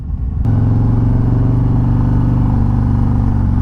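A Harley-Davidson Road Glide 3 touring motorcycle with stock slip-on exhausts, its engine catching and settling into a loud, steady, close-up idle with a deep rumbling pulse.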